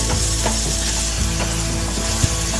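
Chopped tomatoes and salt being stirred in a hot pan, with steady loud sizzling and repeated scraping, clicking strokes of a spoon against the metal throughout, no voices.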